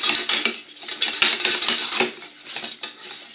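A spoon scrapes and clinks against a pan as egg yolk is mixed into hot tapioca, a close, busy run of metallic strokes and taps with no talking.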